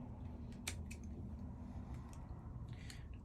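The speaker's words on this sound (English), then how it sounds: "we're just going to have to snip off any excess" Scissors trim off excess felt with a few quiet, crisp snips over a soft, steady background rustle, close by and faint.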